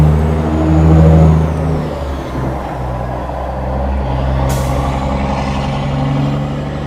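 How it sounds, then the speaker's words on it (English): A 1969 Ford F100 truck, abandoned for 30 years, cranks over with a steady low mechanical churn from its engine, loud and close, rising and falling slightly without catching. "At least it's turning over easy. Yeah, and It's turning over really well. it has tried to crank"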